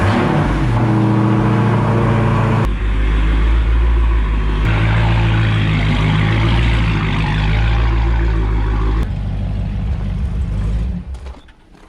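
A Dodge Hellcat engine, recently repaired after being blown up, fires and runs loud and close with a deep, rough idle and a few revving surges, then cuts off abruptly near the end.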